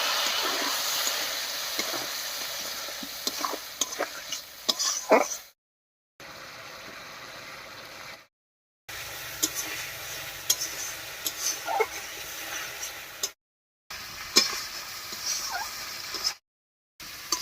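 Spice paste and chunks of taro being stir-fried in a pan for a hilsa fish curry, a steady sizzle with scraping stirs, broken by several short silent gaps.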